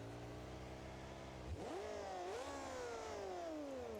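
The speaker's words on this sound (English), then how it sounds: "We have no blow-off valves, so that's why we have the big whooshes" A V10 monster truck engine in BeamNG.drive with no blow-off valves drones steadily, then its pitch sweeps up sharply as it revs, with a rising turbo whoosh, heard close and alone.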